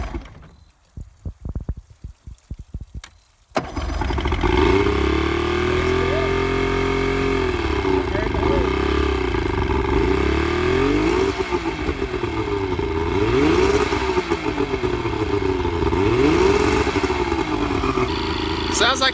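An outboard boat motor, run on a water pump before fishing, clatters a few times, then fires and runs loud and steady close by, revving up and down as throttle is given, with someone talking over it.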